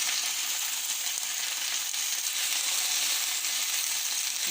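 Carrots, potatoes and onions fry in a pan with little oil, producing a continuous, fairly loud sizzle with faint stirring underneath and no voices.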